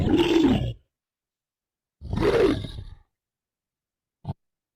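Two deep, guttural bear roars, each about a second long, separated by silence, followed by a brief faint thump.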